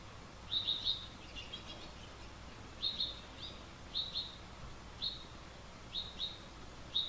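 Baby birds and a mother cardinal chirp outdoors in short, sharp high calls, coming in small clustered bursts of two or three notes every second or so, fairly close and clear over quiet background.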